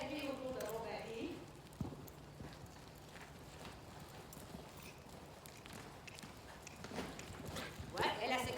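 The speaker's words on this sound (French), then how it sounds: "Je demande à mon cheval le galop autour du baril" A horse canters around a barrel, its hoofbeats thudding steadily on soft ground at a moderate distance while a rider talks over them.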